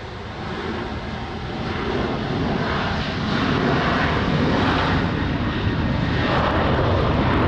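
A jet airliner lands at Lisbon Airport on a rainy morning, its steady broadband engine roar growing slightly louder and holding for several seconds, alone without voices.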